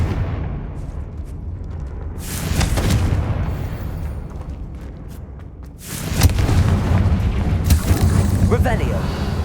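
Two heavy Confringo blasting-spell explosions in the Hogwarts Legacy video game, each a loud booming burst that rumbles off over game ambience, several seconds apart.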